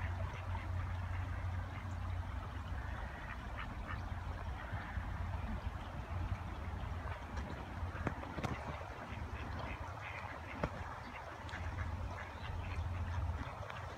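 Ducks on water, a mandarin among them, quack in scattered low calls at moderate distance over a steady outdoor background hum, with a few sharper sounds and no talk.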